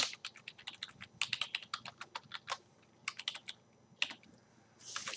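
Close, quick keystrokes on a computer keyboard in irregular bursts with short pauses, clicking alone with no talking.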